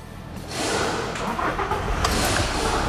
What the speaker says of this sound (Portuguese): Deixa eu dar a partida aqui, vamos lá.